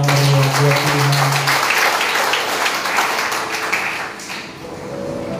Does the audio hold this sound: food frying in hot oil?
no